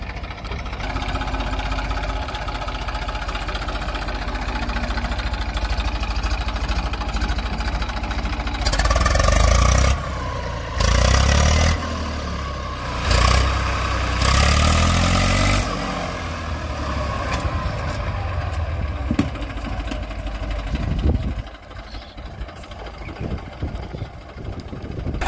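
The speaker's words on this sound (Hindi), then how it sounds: "और ट्रैक्टर को बिल्कुल लो में चलाया जा रहा है।" An Eicher 333 tractor engine chugs steadily at low revs in low gear, with several louder surges midway before settling back into a rough idle.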